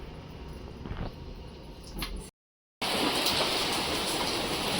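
Rain falls outside a home kitchen, a steady broadband hiss that cuts out briefly midway, then returns louder and denser.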